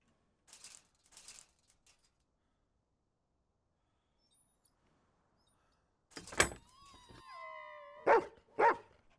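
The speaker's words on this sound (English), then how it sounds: "There's a doggy." A dog in a horror video game gives a few sharp, close barks and yelps after a long quiet stretch, with a faint thud or two earlier on.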